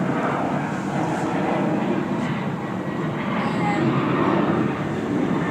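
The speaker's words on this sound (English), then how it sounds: "Again, you can hear the plane activity." A fixed-wing airplane drones overhead in the early morning near a federal prison, a steady broad engine roar that stays loud throughout.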